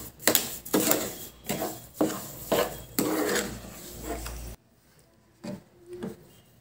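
Sugar being mixed into semolina halwa in a pan, a series of loud, close scraping and clanking strokes of a utensil against metal, then a pause and a few softer strokes.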